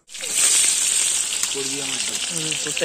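Onions fry in a pan as the base for a potato curry, giving a loud, bright, continuous sizzle that starts abruptly, with a voice speaking briefly over it.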